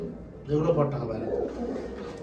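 Madrasi pigeons in a loft, males in moult being readied for winter flying, coo in low throaty phrases nearby, with voices talking alongside and a steady background murmur.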